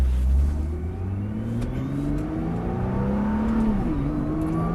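A Nissan GT-R accelerating hard on a race circuit, its engine note rising steadily and loud from inside the car, with a brief dip near the end as the gear changes, then pulling on again.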